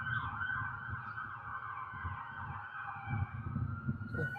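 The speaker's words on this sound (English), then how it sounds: "Oh, it's an ambulance." An ambulance siren wails steadily and loudly, with a police car following it through Fitchburg. Its sweeping tones continue without pause over low traffic rumble, and no one speaks.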